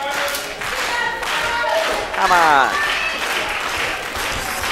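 Wrestling crowd at an Anarchy event, Corey Hollis versus John Skyler, clapping and applauding steadily throughout under a commentator's excited voice and scattered shouts.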